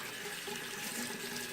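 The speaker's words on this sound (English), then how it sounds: "You want to rinse it, make sure there's no soap left." Tap water runs steadily into a sink while a watercolor brush is rinsed under it, a soft, even splashing stream heard close and alone.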